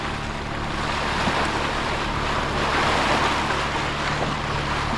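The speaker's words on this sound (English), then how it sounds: "Just the slightest swell." A gentle ocean swell washing around a sailboat at sea, a steady, even rush of water and surf with a low hum beneath, no voices.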